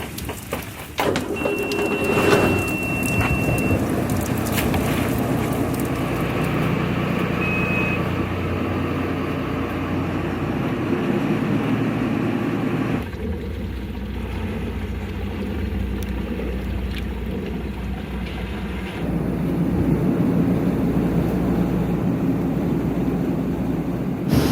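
A coral fishing boat sets off off Corsica in rain, its engine rumbling steadily under a constant wash of rainfall, with a few thin high beeps early on and an abrupt shift in tone midway, no talking.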